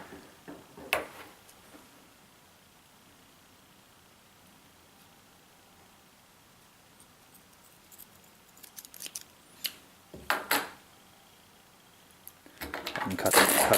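Scissors snip a loop of braided fishing line joined to fluorocarbon: faint, sparse clicks and sharp cuts in quiet surroundings, with a louder rustling burst at the end.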